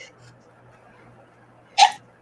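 A single sharp sneeze bursts out near the end of a quiet stretch, loud and close against a faint low hum of room tone.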